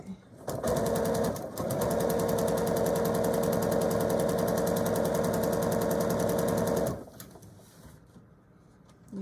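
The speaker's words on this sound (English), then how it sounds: "Needle down, I'm going to lift the presser foot" A sewing machine stitches a zipper onto a DIY handbag in one close, loud, steady run of rapid mechanical whirring lasting several seconds. It then stops abruptly, leaving quiet room sound.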